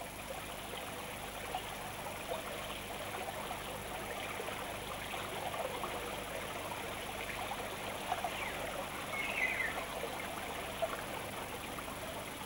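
Shallow stream flowing steadily in a German wildcat habitat, a continuous even babble and trickle of water at moderate distance, with no voices.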